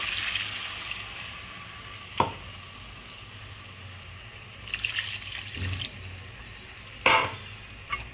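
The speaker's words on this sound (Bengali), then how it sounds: "এবার জল দিয়ে দেবো।" Water poured into a sizzling pot for rui fish curry with taro: a hiss and bubbling over a hot base, with a few sharp utensil clinks against the pot, close up and with no talking.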